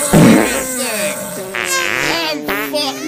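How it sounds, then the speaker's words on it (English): A cartoon fart sound effect blurts out loud at the start, followed by wobbly squeaky voiced sounds and more buzzing fart-like bursts, all close and comic. "Oh God! I'm farting. It's happening."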